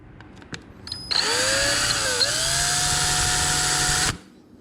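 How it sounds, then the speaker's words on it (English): Power drill boring a hole through a Hobie kayak hull, a loud steady whine lasting about three seconds that dips briefly in pitch under load and then cuts off, preceded by a few faint clicks. "So just start drilling."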